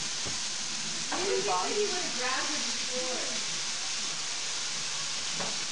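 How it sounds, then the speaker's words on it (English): Bacon bits fry in a pan with a steady sizzling hiss throughout, while a person speaks over it for part of the time. "So we're just making bacon bits right now for the green beans"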